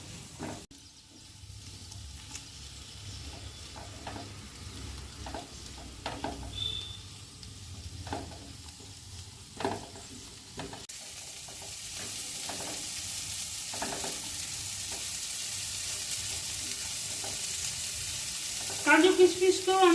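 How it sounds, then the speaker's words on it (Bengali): Cashews and raisins frying together in a pan for daliya pulao, with soft continuous sizzling, occasional stirring scrapes and a rising hiss later on; no talking. "কাজু কিশমিশকেও আমি হালকা করে ভেজে নিয়েছি"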